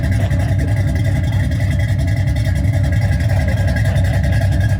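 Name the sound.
3-valve car engine idling, sounds like pushrod V8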